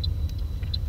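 A car creeping slowly in reverse down a narrow street, heard only as a brief, low, steady engine rumble with faint higher ticks over the top.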